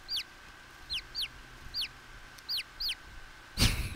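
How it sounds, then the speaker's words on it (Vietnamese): Chicken clucks from The Great Ace Attorney video game: seven short, bright, evenly spaced clucks ring out alone over a faint steady hum, then a louder burst of noisy game sound ends the moment. "Lại có gà đấy."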